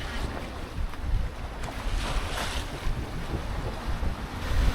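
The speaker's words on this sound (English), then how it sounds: "Just got the wind, so much wind." Strong Meltemi wind roars across a sailboat crossing the Aegean, a continuous loud buffeting rush over the microphone with water washing along the hull underneath.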